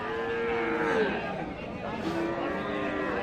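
Cattle moo with low, drawn-out calls amid the steady murmur of a crowded cattle market in Natore, Bangladesh, with voices chattering throughout.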